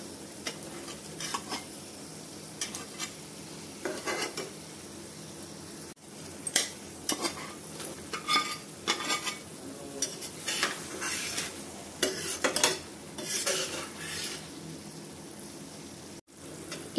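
Fried paneer cubes are stirred into a thick masala gravy in a pan, a low, steady sizzle broken by repeated spoon scrapes and clinks against the metal, fairly quiet and close, with no talking.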